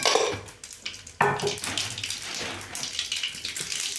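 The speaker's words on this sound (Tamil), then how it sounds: "பாருங்க கடுகு கொஞ்சம் போடுறோம்." Mustard seeds crackling and sputtering in hot oil in a pan on a stove, a dense broadband hiss with scattered pops, close and steady, rising after a brief dip.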